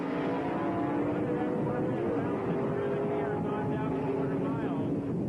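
A Corvette launches off the line at a 1979 NHRA Division 6 drag race in Edmonton, Alberta. A loud, steady engine roar fills the track without a break, with an announcer talking over it.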